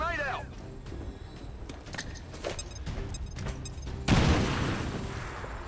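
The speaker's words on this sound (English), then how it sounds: "So I will throw a grenade here" A grenade goes off in XCOM 2 after scattered game sounds and footsteps, landing as one sudden loud blast that trails into a rumbling decay, with a voice talking over it.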